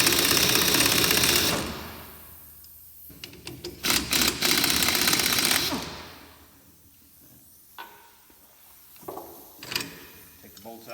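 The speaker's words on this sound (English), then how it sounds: "I'm gonna take an 18mm wrench and my impact, which has an 18mm socket on it, and we're gonna actually take these nuts and bolts off right here" An impact wrench fitted with an 18mm socket working nuts and bolts loose on a Cadillac CTS-V2 during a poly bushing install: loud bursts of rapid hammering, then quieter metallic clinks and rattles of bolts being handled.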